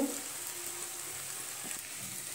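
Capsicum and potato pieces sizzle softly in a hot pan, a steady faint frying hiss with no talking.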